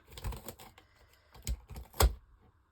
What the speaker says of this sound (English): I'm just using the tip of my blade, carefully cutting down.